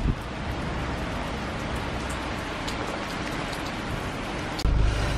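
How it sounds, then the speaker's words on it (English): Heavy rain pours steadily in Devon, a dense close hiss of drops drumming on surfaces with no breaks, with a louder, bassier surge right at the end. "it's absolutely pouring"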